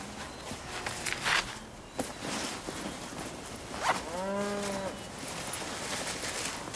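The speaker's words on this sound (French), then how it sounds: "les vaches sont encore là." Cows in a field, one long drawn-out moo rising over steady outdoor noise, with footsteps and rustling nearby.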